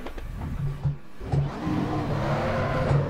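Race car engine in the Assetto Corsa racing game holding fourth gear through a corner, a steady mid-pitched drone with brief swells in revs, fairly close and continuous.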